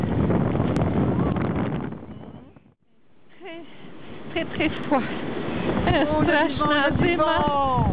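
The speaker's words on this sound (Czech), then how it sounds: "Ledovej vítr." Strong icy wind at a freezing seashore roars and buffets the microphone, dropping briefly to a lull before surging back; people talk over the gusts in the second half.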